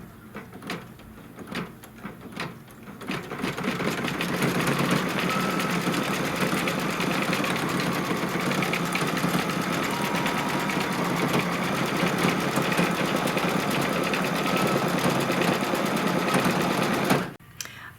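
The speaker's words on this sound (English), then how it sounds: "then it's going to stitch a tack down" Embroidery sewing machine stitching a tack-down line through three stacked fabric pieces, a steady close mechanical whir that runs continuously for about fourteen seconds after a few short starts, then cuts off abruptly.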